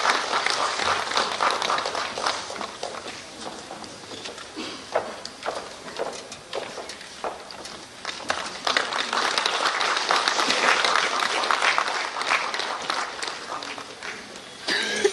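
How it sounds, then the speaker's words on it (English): Crowd applause at a farmers' vehicle handover event in Meghalaya as a document and booklet are released, broadband clapping sustained for about fifteen seconds with a busy, fluctuating texture and scattered sharper claps. "A big hand clap as this document and booklet is being released."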